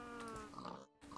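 A pig in the video game Minecraft gives a short grunt, heard close and alone in a brief burst that cuts off abruptly.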